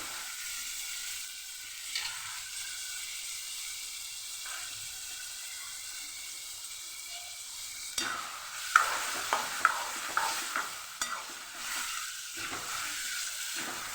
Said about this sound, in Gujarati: અહીંયા આપણા ટમેટા સરસ તતડાવા લાગ્યા છે અને સરસ પોચા થવા લાગ્યા છે